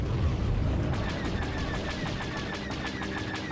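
Rapid automatic gunfire from an online shooter game, with dense, continuous bursts and clattering shots fading slightly toward the end, alone without voices.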